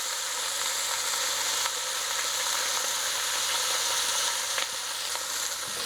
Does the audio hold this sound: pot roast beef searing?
yes